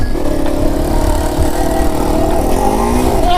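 A Yamaha TW200 dirt motorcycle engine drones loudly and steadily while riding, its pitch climbing as the rider accelerates toward a driveway jump, close and continuous.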